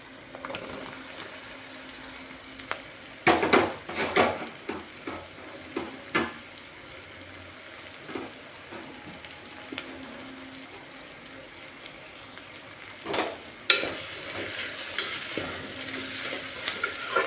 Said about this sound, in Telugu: దొండకాయ వేసుకున్నాక మళ్ళీ ఇట్లా కలుపుకోవాలి మొత్తము